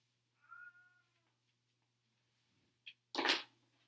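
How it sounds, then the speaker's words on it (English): A cat gives a short, faint meow, then after a pause comes a couple of brief, louder rustling bursts nearby in an otherwise quiet room. "I hear the math cat."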